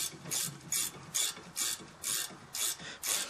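A ratchet wrench tightening a 13 mm bolt on a wrecked 2013 Chevy Impala, a crisp run of about eight evenly spaced clicking bursts, close and alone.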